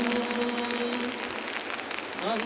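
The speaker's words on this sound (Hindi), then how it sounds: "हमारे गांव में बारिश हो रही है।" Rain falls steadily on surfaces in a village and makes a dense hiss. A tonal hum fades out early on, and a faint warbling sound rises near the end.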